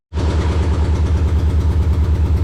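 A junkyard Subaru engine idles with no exhaust fitted and a large exhaust leak, giving a loud, steady, rapid pulsing chug close by, alone without talk.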